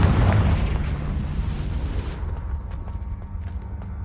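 A Confringo spell blast in Hogwarts Legacy, a loud booming burst that decays over about two seconds into a quieter rumbling tail with faint clicks.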